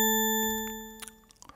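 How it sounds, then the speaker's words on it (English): A bell tone from the Tone2 Icarus3 synthesizer built from 16 additive partials, one bright struck note that rings with sustained harmonic overtones and slowly decays, heard alone. "So this is a bell with 16 partials."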